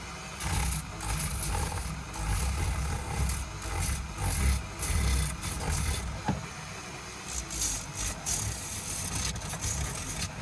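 A 1 inch sanding disc grinds against wood in a loud, continuous, rough abrasive rasp that swells and eases slightly as the disc moves across the surface, with no talking.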